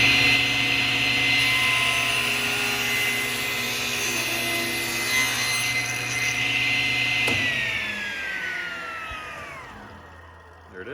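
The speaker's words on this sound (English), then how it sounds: "So I've got the table saw here set to a 1/2 inch" A table saw set to half an inch shaves a pinewood derby car body down to a thin sliver, a loud steady whine of blade and motor running throughout, then spinning down and fading near the end.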